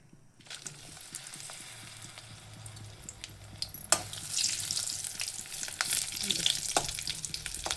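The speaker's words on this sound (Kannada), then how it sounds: "ಈಗ ಒಂದು ನಾಲ್ಕು ಮಜ್ಜಿಗೆ ಮೆಣಸಿನ್ಕಾಯಿ ಕರಿತೇನೆ" Buttermilk-cured chillies (majjige menasinakai) frying in hot oil, a steady crackling sizzle that grows denser and louder toward the end, with occasional sharper pops and light clinks from stirring.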